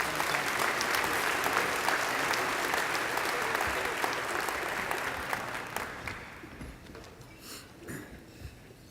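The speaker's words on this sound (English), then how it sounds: "Please join me in applauding" A chamber of commerce annual meeting audience breaks into sustained applause, many hands clapping thickly before thinning and fading out in the last few seconds, leaving scattered claps and faint room noise.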